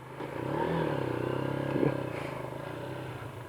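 A 2018 Keeway K-Light 202 motorcycle rides along, its engine putting out a steady, moderately loud drone that rises slightly as it revs, with a brief clatter partway through.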